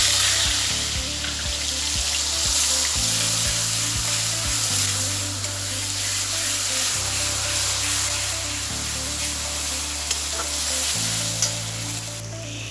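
Ginger, garlic and onion paste fries in a pan for a Bengali milk-and-pointed-gourd dish, giving a loud, steady sizzle with a few short scrapes of stirring and no voices.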